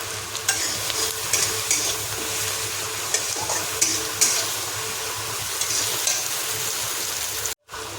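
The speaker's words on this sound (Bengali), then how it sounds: "এখানে মশলাটা কষানো হোক" Spices sizzle and fry steadily in a pan for a bottle gourd curry, with occasional scraping stirs and clinks of the spatula, close and continuous with no talk.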